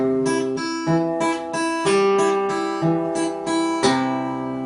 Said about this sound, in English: you pick the first string with both the first and second fingers.